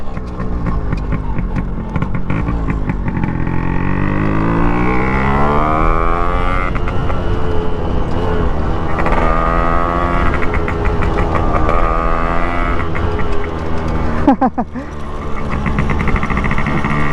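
A two-stroke Yamaha RX135 motorcycle with a loud aftermarket exhaust runs loudly and close, its pitch rising and falling through revs with a raspy, buzzing exhaust note.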